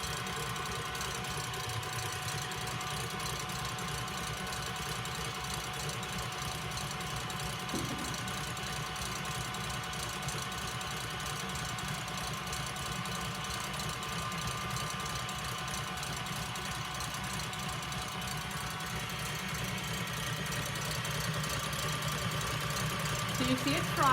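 Egg whites for a chocolate meringue pie being whisked, heard as a steady, even whirring that runs close and constant throughout, with a person talking over it.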